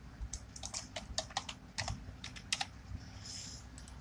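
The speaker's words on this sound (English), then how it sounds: "One hand typing." One-handed typing on a computer keyboard: irregular bursts of close, crisp key clicks with short pauses, alone and without any talking.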